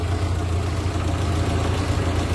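A Suzuki Carry 1000cc engine idles steadily, a continuous low rumble with faint vibration, close by and alone without voices.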